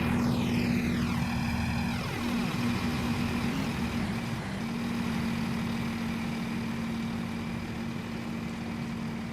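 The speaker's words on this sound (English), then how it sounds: "It's like a helicopter going on." A steady, droning engine in the Train Simulator Classic game with a helicopter-like thrum, holding a constant hum and low rumble throughout, with a falling whine fading out early on.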